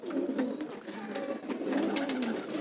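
Pet pigeons coo steadily and close while they eat mixed grain, a low continuous burbling of several birds overlapping with no pauses.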